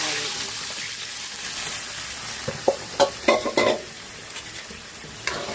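Hot spice tempering (baghar) hits cooked dal with a brief burst of sizzling and bubbling crackles, loud for about a second, over a faint background hiss.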